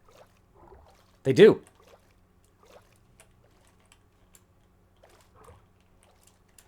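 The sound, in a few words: Minecraft squid making a tiny water noise, from a video game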